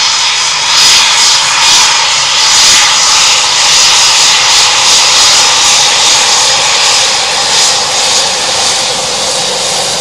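Eurofighter Typhoon jet departing RAF Coningsby, a loud, sustained roaring engine rush that swells and holds steady with a pulsing, rumbling texture, no talk.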